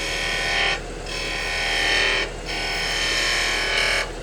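A wood lathe taking a smooth shearing cut while turning a wooden pepper mill, a steady scraping hiss in three long passes, each broken by a short pause.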